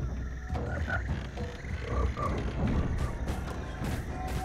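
Frog from the video game Jak and Daxter, croaking repeatedly in a loose rhythm of deep, guttural calls set against rumbling game ambience and mechanical clatter, fairly close and prominent, with no voices.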